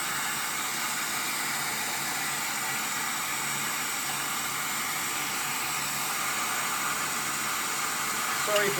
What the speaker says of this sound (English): Hoover extractor going on there just to pick up any straw